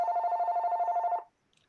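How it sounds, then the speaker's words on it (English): A mobile phone rings during a meeting with a single clear, warbling electronic trill lasting just over a second, then cuts off into near silence. "my phone is ringing"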